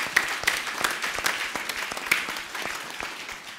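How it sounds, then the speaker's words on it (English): Audience at a plenary conference session applauds, moderate steady clapping from a room of attendees with a few sharper individual claps, continuing for several seconds and gradually thinning. "I think we should give them a round of applause"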